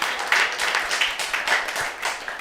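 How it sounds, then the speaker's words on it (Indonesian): An audience applauds at a live comedy talk show, a steady dense wash of clapping that holds at even loudness throughout with no voices on top. "Tepuk tangan untuk Oci"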